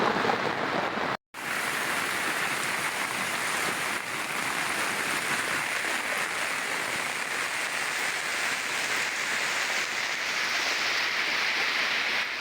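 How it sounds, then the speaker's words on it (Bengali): Heavy rain pours steadily in a village in Dinajpur, a dense, continuous hiss that stays loud and even throughout, with a brief dropout near the start and no talking. "অনেক পরিমাণের বৃষ্টি পড়তেছে,"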